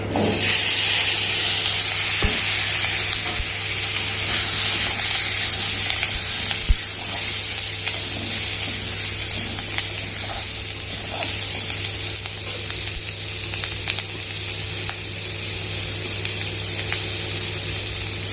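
Green chillies, radish and potatoes hit hot oil seasoned with cumin, five-spice and mustard seeds, making a loud, constant hissing sizzle close by, broken by a few sharp clicks from the pan and no talking.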